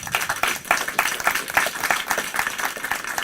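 An audience at an academic conference session claps in dense, even applause, with close, sharp hand claps running for a few seconds and no one speaking.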